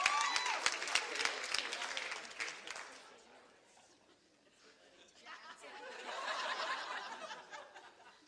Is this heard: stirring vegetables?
no